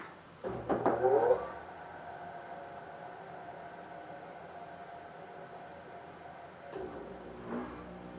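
A wheel balancer spins up a Ducati front wheel with a brief rising mechanical whir, then settles into a steady low hum of rotation before a short clunk as it stops; no voices.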